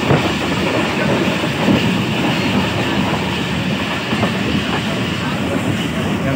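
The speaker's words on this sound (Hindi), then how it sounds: "अभी जो है हम ट्रेन में जा रहे हैं, तो जो है स्पीड बहुत ही बढ़ गई है अब।" A passenger train between Mirpur and Rawalpindi travels at high speed, its loud steady roar and wheel rumble heard from inside the carriage, with faint rhythmic clatter underneath.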